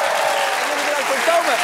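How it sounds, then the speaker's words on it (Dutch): Studio audience applause on a Dutch late-night talk show, a steady wash of clapping heard alongside talk and a faint tonal sound. "Geef hem een groot applaus."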